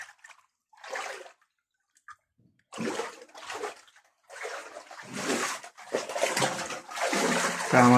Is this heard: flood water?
yes